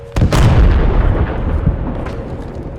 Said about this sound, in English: Well, there was an expensive explosion.